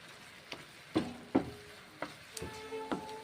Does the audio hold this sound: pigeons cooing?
no